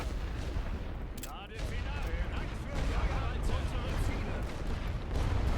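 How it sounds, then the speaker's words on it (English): Artillery shells pound a trench in the World War I strategy game The Great War: Western Front, a continuous barrage of booms and gunfire crackle under a voice. "they're going to drop a lot of artillery right on that trench"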